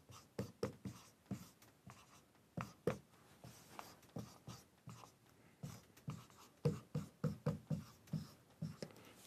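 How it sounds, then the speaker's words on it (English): Marker or chalk strokes on a board while working a product-rule derivative problem, a steady run of short, sharp scratchy taps and squeaks in close succession, close and clear with no talking. "I'll write it all in one color."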